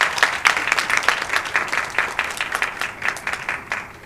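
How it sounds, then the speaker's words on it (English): A crowd claps for a presenter after an investor pitch at a startup forum, a lively burst of hand claps, close and loud at first, then thinning and softening toward the end. "Let's put our hands together."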